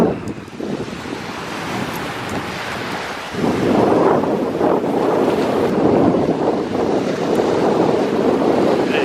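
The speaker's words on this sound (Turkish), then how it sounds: "rüzgar esiyor çünkü biraz" Strong wind in the Maldives buffeting the microphone in gusty roars, louder after a few seconds, with a rushing, surf-like wash underneath.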